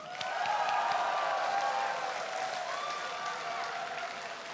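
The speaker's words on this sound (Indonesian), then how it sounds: "kita berikan tepuk tangan" Audience applause at the 2014 Indonesian presidential debate, a broad steady wash of clapping from a hall crowd that holds fairly even for several seconds, with faint tonal music or whistles underneath and no voices over it.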